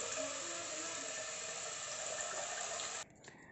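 Water pours from a jug onto potted plants indoors in a steady, soft splashing stream that stops abruptly near the end.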